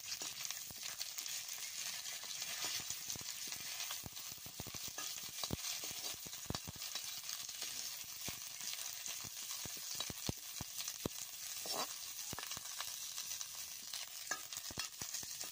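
Narasingha (curry) leaves frying in a little oil in a pan for moong dal, a steady close sizzle with occasional stirring scrapes and taps, no talking.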